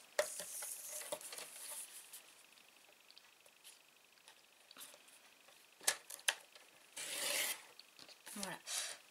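Paper being cut to size for a handmade envelope album: quiet scraping and sliding strokes with small clicks, then a louder rasping burst of cutting near the end, close and with no talking.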